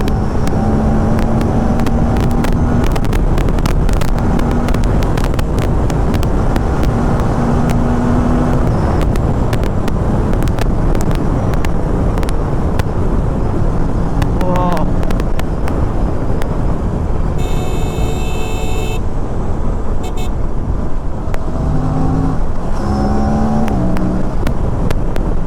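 An Aprilia RS 457 motorcycle engine at full throttle roars loudly and continuously, climbing through revs with repeated rising gear-change sweeps, close and alone without talk.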